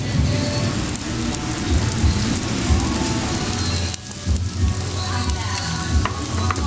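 Water poured into a hot Lao moo kratha grill pan at a Vang Vieng barbecue meal sets off a steady, loud, rain-like hiss and crackle of sizzling, continuous throughout with a brief dip partway.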